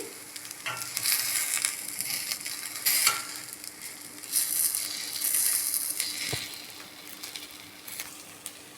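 Fish frying in one spoon of oil in Healux cookware, heard close up as surging waves of sizzle and spatter with stirring and scraping, swelling and easing several times without any voices.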